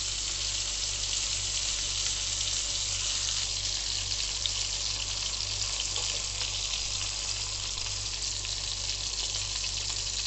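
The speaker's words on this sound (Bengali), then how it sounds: "দেখুন আমি বেগুনটা ভেজে দিচ্ছি, সবগুলো বেগুন একবারে দিয়ে দিয়েছি।" Eggplant slices frying in hot oil give off a steady, dense sizzle that holds evenly at close range, with no voices over it.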